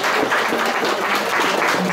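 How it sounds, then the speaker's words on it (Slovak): Audience applause at a Christmas gathering, steady dense clapping at full level for the whole stretch, with no voices over it. "Takže veľký potlesk pre Ondreja, maminu"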